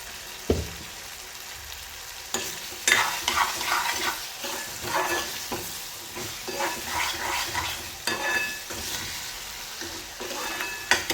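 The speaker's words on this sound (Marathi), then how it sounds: "आता हे छान 1 ते 2 मिनिटं चांगलं परतून घेऊया, मिरचीचा कच्चापणा जाईपर्यंत." Green chillies stir-fried in a pan for a ghevda bean and potato vegetable dish, with a continuous sizzle and frequent scraping stirs of a spatula, heard up close and alone without speech.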